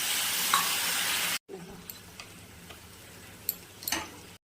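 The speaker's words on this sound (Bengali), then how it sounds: "পুরো টমেটো আর কাঁচা লঙ্কা পেস্ট পুরো ভাজা ভাজা হয়ে গেছে" Tomato and green chili paste frying in a pan after a splash of water, first a loud steady hiss that cuts off abruptly, then quieter sizzling with scattered sharp ticks and stirring clacks.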